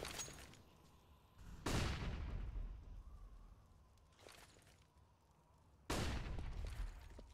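Shotgun fire in Counter-Strike on the map Nuke, three sharp blasts spaced a few seconds apart, each followed by a decaying echo, faint and distant overall.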